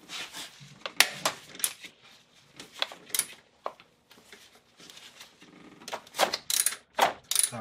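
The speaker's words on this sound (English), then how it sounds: "there's a bolt right below the alternator we need to loosen up" A 14 mm wrench loosens a bolt below the alternator on a 1999 Acura RL, giving irregular close metallic clicks and ratcheting taps, scattered and uneven with short pauses and a louder cluster near the end.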